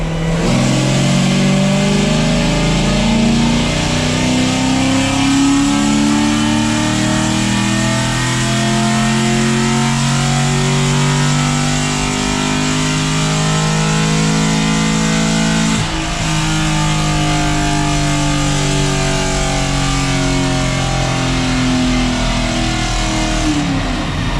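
A Chevrolet Camaro 1LE engine revs hard on a dyno in a long sustained pull, the loud rising engine note climbing steadily, with a brief dip near the end before continuing.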